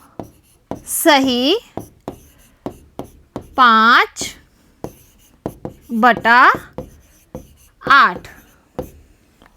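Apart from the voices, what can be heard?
writing a fraction by hand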